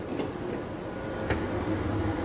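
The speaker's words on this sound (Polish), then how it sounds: "Jesteśmy już w pociągu." Inside a moving passenger train: a steady low rumble with a couple of sharp rail clacks, close and moderately loud, and no one speaking.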